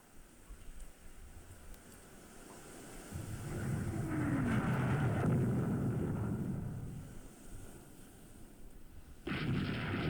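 A torpedo attack in the naval warship game Rule the Waves 3 plays out as a swelling low rumble and whoosh. It builds over a few seconds and then fades, with an abrupt noisy burst near the end.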